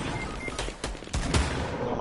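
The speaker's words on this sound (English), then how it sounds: "I hear bullets." Gunfire in Fortnite rings out as a quick volley of sharp shots at moderate distance, several cracks in close succession over a couple of seconds.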